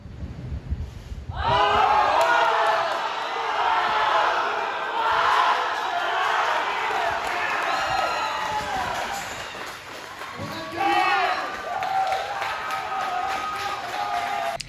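A crowd at a weightlifting squat competition cheers and shouts loudly in sustained waves, with a brief lull before another burst of cheering near the end.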